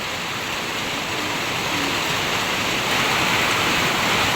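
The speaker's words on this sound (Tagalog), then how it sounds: "Malakas na po ang tulo." Heavy rain pours steadily onto a roof that is leaking, making a dense, loud hiss that fills the whole clip and swells slightly toward the end, with no talk.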